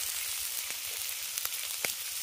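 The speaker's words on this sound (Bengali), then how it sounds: "এবার ভালো করে মশলাটাকে কষিয়ে নেব" Spice paste with Kashmiri chili powder sautés in a pan, a steady close sizzle and hiss with a few soft stirring taps, no voices.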